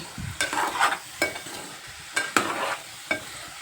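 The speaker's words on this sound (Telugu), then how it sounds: "ఇలా కలుపుకొని కొద్దిసేపు ప్లేట్ పెట్టుకున్నాం" Bitter gourd curry being stirred in a pan, with several distinct scraping strokes of a spoon against the pan over a soft background sizzle, close by and with no voices.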